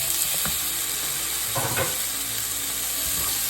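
Tomatoes sizzle steadily in a hot pan during a chayote squash sauté, a constant close frying hiss with a few faint stirring clinks.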